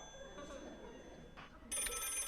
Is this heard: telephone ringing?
yes